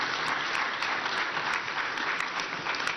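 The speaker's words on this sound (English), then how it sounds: "Ladies and gentlemen, another round of applause for His Excellency." Dense, steady applause from an audience for John Mahama at his Election 2024 agenda speech in Ghana, sustained and even for the whole stretch.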